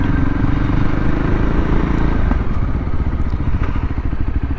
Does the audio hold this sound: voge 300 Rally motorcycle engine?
yes